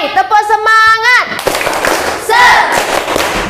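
A classroom group led by a female teacher chants a rising vocal cue, then breaks into loud, busy rhythmic clapping with crowd noise, a short voiced shout cutting through midway.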